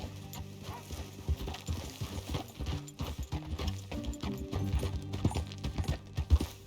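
Horse hooves clip-clop in Red Dead Redemption II, a rhythmic trot of close, moderately loud hoofbeats with a snort or whinny near the end, set against soft background music.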